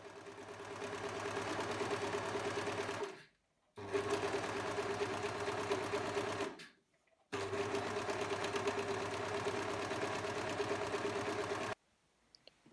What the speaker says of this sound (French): Puis on zigzag où on surjette tout le bas de la parmenture.